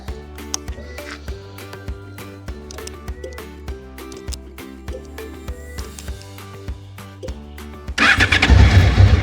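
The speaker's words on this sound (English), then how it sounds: "Easy start motorcycle" A Honda VFR 800fi fifth-generation motorcycle is cranked with a rhythmic starter churn for about eight seconds before the engine catches and fires into a loud, steady idle, close by.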